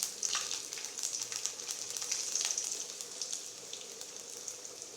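Garlic fries in hot oil for pollanka kuttu, giving a soft, steady crackling sizzle with brief bursts of spitting, close and fairly quiet, with no voices.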